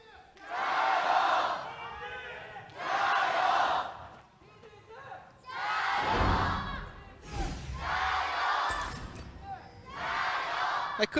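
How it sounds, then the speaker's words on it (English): An esports arena crowd at a League of Legends LPL match chants in loud, rhythmic bursts roughly every one to two seconds, rising and falling with short gaps, large and reverberant. "You can hear the crowd still trying to chant."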